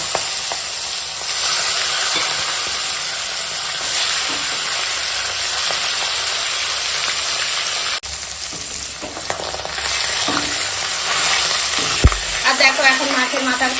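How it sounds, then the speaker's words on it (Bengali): Katla fish head fries in hot oil in a home kitchen, a loud continuous sizzle and hiss with occasional stirring scrapes and a few clinks near the end. "এখন মাছের মাথা ভেজে নেবো"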